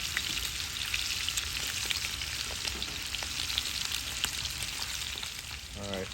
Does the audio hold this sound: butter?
yes